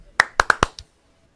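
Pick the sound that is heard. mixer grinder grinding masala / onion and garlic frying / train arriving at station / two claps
two claps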